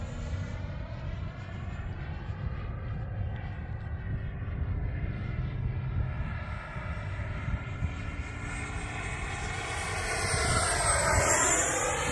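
Loud, continuous roar of an FMS 90mm Avanti RC jet on an 8S battery at full throttle, a whine that climbs and shifts in pitch as it passes nearby, without any talking.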